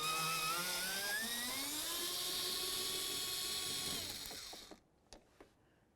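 A power ratchet or drill spins out a 10mm bolt from a Dodge Journey door, a whirring whine that shifts pitch as it runs for about four seconds, then stops, followed by a few small clicks.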